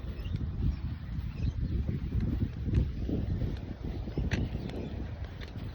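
Wind gusting on a hot, windy walk to the park, heavy low rumbling buffeting across the microphone throughout, steady and loud with no voices.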